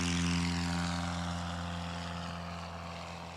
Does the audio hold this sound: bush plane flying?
yes